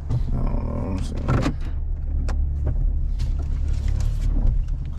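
A car engine turns over and settles into a loud, steady low idle that runs close throughout, with a few faint clicks and knocks on top.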